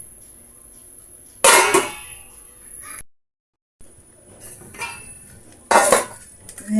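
A metal lid set onto a pot of simmering tinolang manok chicken soup in a home kitchen, a couple of short clanking clinks over a faint steady background hiss.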